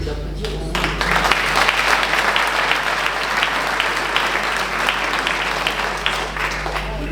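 A room full of people at a New Year's greetings ceremony in Viviers, France, applauds local tourism guides with sustained, dense, fairly loud clapping over a low background hum.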